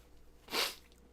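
One sharp, breathy sneeze bursts out close to the microphone in the middle of a quiet room, brief and loud against soft background noise.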